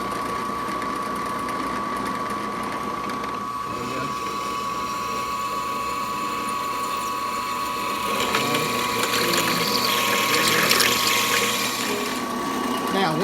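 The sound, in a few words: drill press drilling holes with a Harbor Freight step bit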